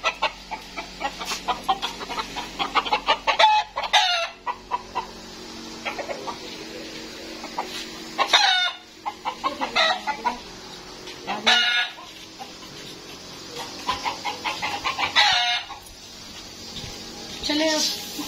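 Chickens cluck and squawk in short bursts throughout, with a rooster-like call among them and people talking quietly in the background.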